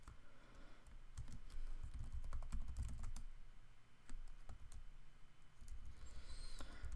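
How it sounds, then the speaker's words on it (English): Someone types a command on a computer keyboard in quiet bursts of light, close key clicks and taps, with brief pauses between runs of keystrokes. No one talks. "if I could type this command right"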